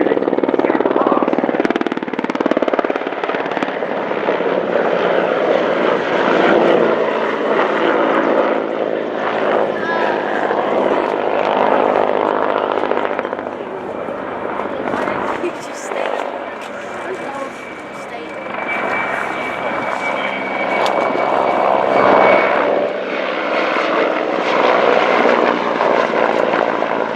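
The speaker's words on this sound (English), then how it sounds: "The other machine in this formation, the HIP, is part of the most successful helicopter family." Hind and Hip military helicopters fly past in formation at an air show, a loud sustained rotor and engine roar swelling and fading, with a voice talking over it.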